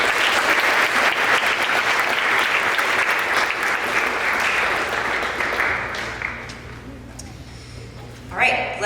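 Full audience applause at a spring upper school awards ceremony fills most of the clip, thick and steady, then fades out as a few voices come in at the close.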